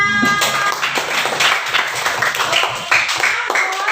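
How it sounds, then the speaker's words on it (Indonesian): Students clapping together in a classroom, a burst of fairly close, uneven handclaps continuing for a few seconds. "Kita tepuk tangan buat semuanya"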